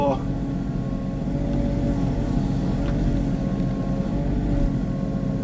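The diesel engine of a Sany 35U mini excavator drones steadily at low pitch throughout, close and loud, with no break in the rumble.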